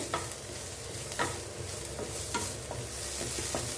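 Onion and vegetables sautéing with mustard seeds and cumin in a pan, a steady close sizzle with several sharp utensil scrapes and stirring knocks spaced through it.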